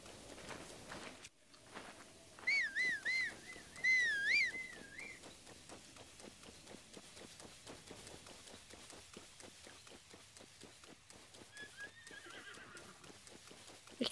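In Zelda Breath of the Wild, a horse gives a couple of clear whinnies, followed by a steady run of hoof clip-clops at a moderate distance, fairly quiet overall.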